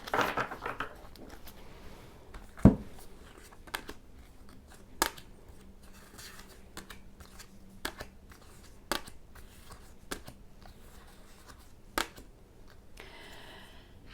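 A deck of tarot cards is shuffled by hand, giving soft rustling broken by sharp, irregular snaps and slaps spaced a second or two apart, close and quiet, with no talking.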